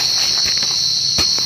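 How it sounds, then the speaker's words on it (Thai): A cricket chirping from inside its burrow, a loud, steady high-pitched trill held close and continuous, with a few faint taps and rustles near the hole. "จิ้งหรีดมันอยู่ในรู"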